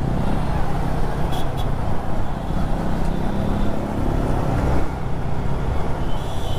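Heavy night street traffic rolls past a rider on an MT15 or FZ V2 motorcycle, with a loud, dense roar of engines and road noise, constant throughout and no clear breaks.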